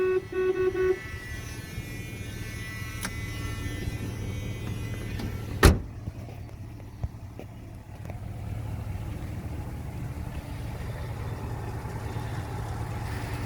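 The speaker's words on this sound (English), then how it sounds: "This car only has a single horn. It doesn't have the double horn," The single horn of a 1978 Dodge Aspen Custom sedan sounds a short toot, followed by a sharp click and a quiet, steady idle background with no voices.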